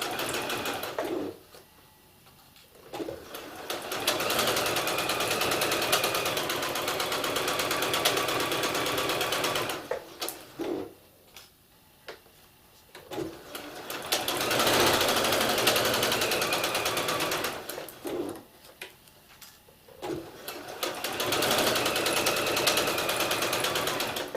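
A sewing machine stitches in three long bursts of rapid whirring, separated by short pauses of near quiet.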